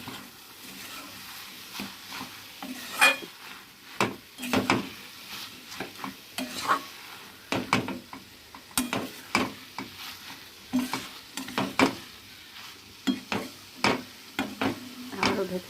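Food frying in a pan being stirred now and then, a soft continuous sizzle broken by irregular scraping and clinking spoon strokes against the cookware, close and moderately loud, with no talking.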